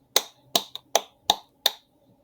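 A class of students claps five times in a quick, uneven series of sharp, close, loud hand claps with short silent gaps between, no talking.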